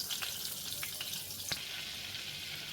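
Butter and oil frying in a pan for paneer butter masala, a steady close sizzle with a few sharp pops and crackles over it and no voices.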